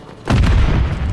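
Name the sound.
grenade explosion in Modern Warfare 3, video game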